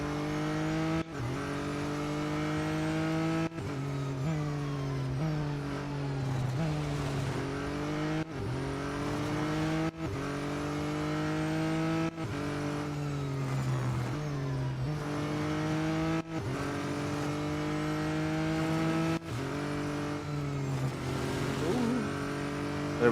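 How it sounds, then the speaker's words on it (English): Race cars roar through the Real Racing 3 mobile game, one engine droning loud and steady with repeated gear shifts and revving climbs, while someone talks over it. "So 6 cars left to overtake."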